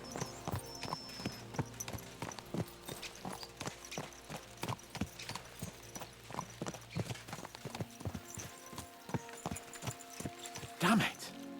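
Horses' hooves clip-clop at a steady walking rhythm on a road in Kingdom Come: Deliverance II, with a brief whinny near the end, all under game background sound.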